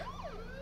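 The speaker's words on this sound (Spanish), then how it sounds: "¿Quieres que ponga la sirena de policía?" A police siren wails in rising and falling sweeps, fairly faint and steady, with a low engine-like hum beneath and no talk.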